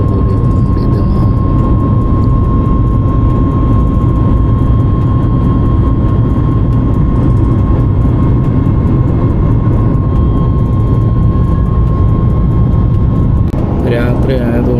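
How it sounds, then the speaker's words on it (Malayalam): Inside an Air India passenger plane in flight at night, a loud, constant cabin roar of engines and airflow fills the clip without a break, with a thin steady tone over it and a brief rattle near the end. "ഫ്ലൈറ്റ് മൂവായിട്ടുണ്ട്."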